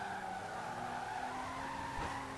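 Tires of a 1953 Jaguar C-Type race car skid in Forza Horizon 4 as the tail slides out, a steady loud squeal over engine drone lasting a couple of seconds without pause.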